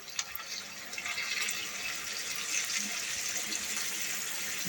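Hot water pours steadily into a pot of Hungarian goulash, a continuous bright splashing stream, quiet and close, running without interruption and with no talking.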